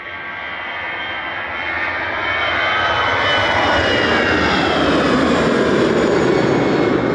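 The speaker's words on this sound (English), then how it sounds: "EasyJet to Faro, OE LQF departing with flight 7502" An EasyJet Airbus A319 with registration OE-LQF departs Manchester Airport on flight 7502 to Faro. Its jet roar builds and then holds as a loud, steady, broadband rumble with no talk over it.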